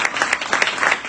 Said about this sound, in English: can you guys give a round of applause for Damon?